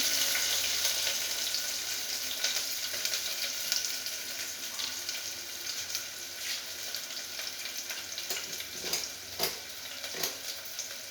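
Garlic frying in hot oil for a tempering, a steady broadband sizzle running throughout with brief louder crackles and stirring clatter, close and fairly quiet with no talk.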